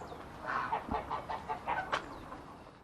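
A few chickens cluck in a short, uneven series of soft calls, moderately close, with no talk over them.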